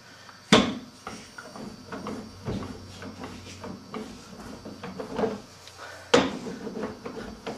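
A rolling pin knocks against wooden slats while flattening porcelain clay, producing several sharp wooden clacks spaced a few seconds apart, with softer rolling thuds and scrapes in between and no speech.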